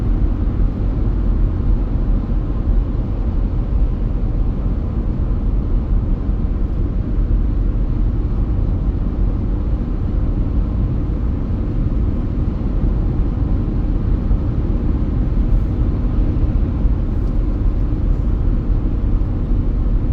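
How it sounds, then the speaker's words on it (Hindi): A car driving home from the office, a steady low road and engine rumble heard from inside the cabin, continuous and even without talk. "अठारह 19 मिनट हो गए हमें ड्राइव करते हुए"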